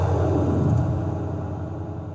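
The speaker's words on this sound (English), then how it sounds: "Now we can use one of the release effects, such as the backspin," A backspin release effect on a Pioneer DDJ-FLX10 DJ controller: a loud, rumbling smear of music that sweeps and drags down in pitch, then fades gradually over about two seconds, with no talk.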